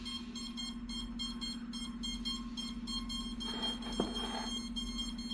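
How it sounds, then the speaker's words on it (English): Steady repeated electronic beeps in short bursts from an iFlight Alpha 85 HD FPV drone after its battery is plugged in, over a constant hum of a cooling fan, with a brief click near the end. "Now let's plug a battery in. There we go. It's beeping."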